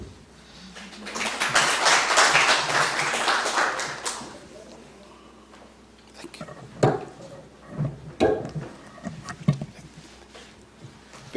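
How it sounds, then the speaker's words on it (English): Audience at a foundation roundtable meeting breaking into a burst of applause for a couple of seconds, then fading into scattered claps, knocks and murmuring voices. "Let us give him another round of applause"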